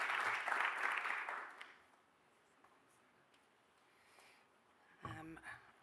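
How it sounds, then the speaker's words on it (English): Audience applause for a panel and moderator at a conference, a quiet, distant burst of clapping in a hall that fades within two seconds, followed by a hush and a brief voice near the end. "can we give our panelists and moderator a round of applause?"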